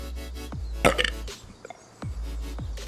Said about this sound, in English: I know I can't really get away with burping on stream till it's been at least 6-7 hours